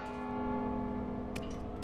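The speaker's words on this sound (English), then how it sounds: "Don't you hear the bell?" A church bell tolls in the stealth video game Mark of the Ninja, one long sustained ring with a steady humming tone that fills the clip, with faint sharp clicks near the end.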